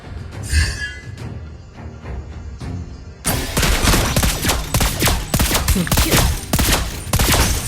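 Lesley's new gun firing in a ranked Mobile Legends: Bang Bang match, with dense, rapid shots that grow louder and steady partway through and keep going in quick succession over game ambience.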